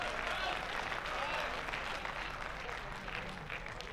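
An audience at an All India Mushaira in Lucknow breaks into sustained, fairly distant applause, a steady wash of clapping from a large crowd throughout, with faint voices mixed in.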